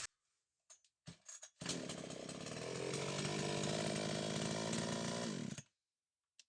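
A Craft-tec CT 5000 petrol chainsaw starts after a few short pulls and sputters, then runs at a loud, close, steady buzzing roar for about four seconds before cutting off abruptly.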